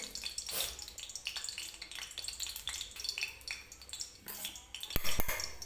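Ghee melting in a kadhai with a soft, steady sizzle and crackle, plus light scraping and clinking of a utensil against the pan, quiet and close with no voices.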